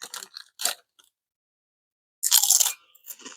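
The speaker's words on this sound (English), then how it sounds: "How about that crunch, right? That's the best barbecue chip I've ever had." Barbecue potato chips crunched up close, a few short crisp bites, then a longer loud crunch after a brief pause and a final softer chew.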